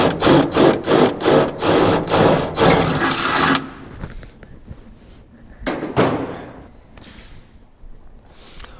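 A drill bit grinds into metal to bore a hole for a Lokar gas pedal in a 1967 Chevelle, with loud rhythmic pulses for a few seconds, then fainter scraping and knocks.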